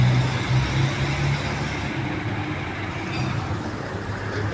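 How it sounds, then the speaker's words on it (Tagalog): Road traffic with cars, trucks and buses easing to a slower crawl, a steady broadband rumble of engines and tyres with low idling drone, continuous and fairly close, no talk. "Unti-unting buwabagal ang andar ng mga sakyan."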